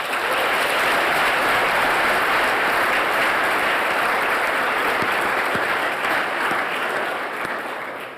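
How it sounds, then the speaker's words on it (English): A graduating optometry class of 2018 at a white coat ceremony gives a round of applause: dense, steady clapping from a large crowd that carries on for several seconds and fades slightly at the end. "Give yourselves one more round of applause."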